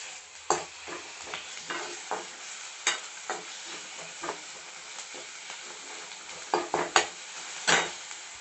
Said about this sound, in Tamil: இஞ்சி பூண்டு கொஞ்சம் வதங்கினதும் கூடவே இந்த பஜ்ஜி மிளகாய், பச்சை மிளகாய் போட்டாச்சு